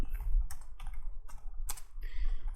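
Computer keyboard typing in a few distinct bursts of crisp keystrokes, fairly close and clear, with short pauses between clusters and no talking.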